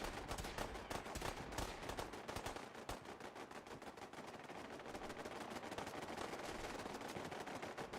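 Dense gunfire from the Fallout 4 video game as Deathclaws battle gunners, a continuous rattle of rapid automatic shots and overlapping bursts that never lets up, with no voices.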